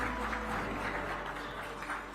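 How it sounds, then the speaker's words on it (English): An audience at a health awards ceremony applauds, a steady wash of many hands clapping together, moderately distant and even throughout. "I believe we can keep the claps rolling."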